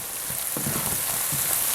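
Spices, bay leaves and tomato paste fry in a pot for Kuku Paka chicken, giving a steady close sizzle with a few soft stirring knocks and no voices.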